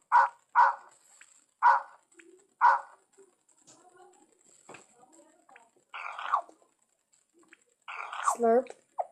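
Dog sound effect: a quick run of sharp barks, then quieter snuffling and mouth noises, ending in a few louder yelps and whines, heard alone without talk.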